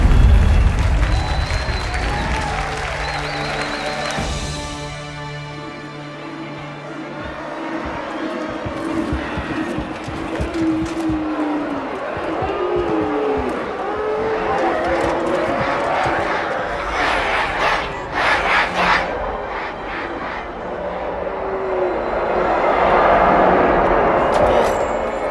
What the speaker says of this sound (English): Quite a crowd.